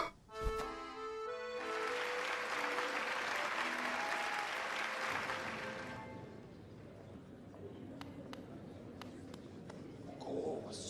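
In Hollow Knight, a video game crowd of bug spectators breaks into applause after a tonal chime. Sustained clapping and cheering fill several seconds, then fade into quieter game sounds and faint effects.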